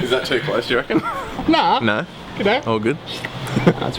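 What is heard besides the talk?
No everyday noise stands out behind the speech.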